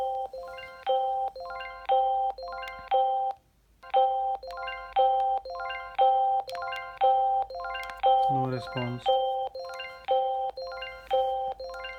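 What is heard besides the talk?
Arlo Baby monitor making repeated chime noise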